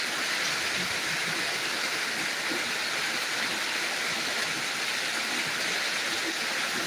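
Torrential rain pours down in Dinajpur, a dense, steady roar of heavy downpour that stays constant throughout with no voices.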